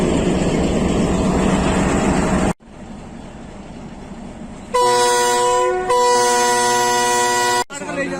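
A passenger train, the Pakistan Express led by locomotive 8049 HQ20 on Pakistan Railways, loud and close: heavy rolling rumble that cuts out abruptly, then a long, sustained multi-tone horn blast in two sections.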